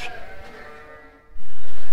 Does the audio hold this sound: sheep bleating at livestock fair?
yes